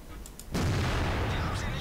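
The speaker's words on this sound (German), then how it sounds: "Ist jetzt der zweite Schuss." A tank gun fires in World of Tanks, a sudden loud boom that cuts in partway through and rolls on as a sustained heavy rumble to the end, with faint game sounds before it.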